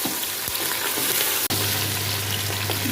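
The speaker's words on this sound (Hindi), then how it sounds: "प्याज और लहसुन के साथ मैंने पाए की थोड़ी सी भुनाई कर ली है" Goat trotters fry with onion and garlic in a pan, giving a loud, steady close sizzle throughout, broken once by a sharp click midway, after which a low hum runs under the hiss.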